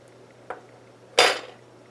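A utensil stirs halwa in a pot on a stove set to medium, giving one light metallic tap and then a louder scraping clank, close by with quiet around them.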